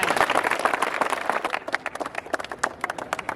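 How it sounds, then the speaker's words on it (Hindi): Crowd applause, loud and dense at first, then thinning into scattered individual claps. "आप सभी से निवेदन उनके स्वागत में एक बार जोरदार ताली बजाएं"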